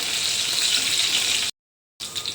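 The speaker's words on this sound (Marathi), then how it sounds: "त्यामध्ये एक बारीक कट केलेली मिरची घालायची मिरची आपण थोडी परतवून घेऊया" Finely chopped green chili sautéing in hot oil in a wok, a loud, close, hissing sizzle that cuts to silence for half a second, then resumes.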